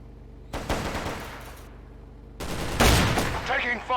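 Gunfire rattles in the True Combat: Elite video game: loud bursts of automatic fire in two clusters with a brief lull between, close and harsh.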